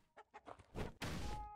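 Chickens clucking in the video game LISA: The Painful, a few short separate clucks building into a louder, dense burst of squawking fowl, close and with no talk.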